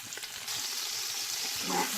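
Chopped onions are added to hot oil with whole spices for mutton yakhni pulao, and a steady close sizzle of frying swells louder and stays bright and hissing throughout.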